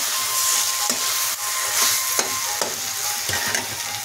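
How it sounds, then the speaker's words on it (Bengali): Boal fish kalia simmering in a covered pan, a steady close sizzle and hiss of frying with faint stirring knocks and scrapes, no voices. "এখন ঢাকা দিয়ে ধীরে ধীরে ধীরে কষিয়ে নেব"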